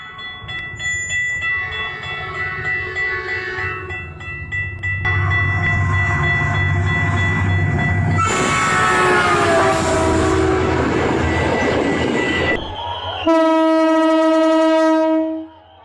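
A train rolls past a level crossing with a loud rumble and clatter, punctuated by several long blaring horn blasts, the final one strong and tonal before cutting off abruptly.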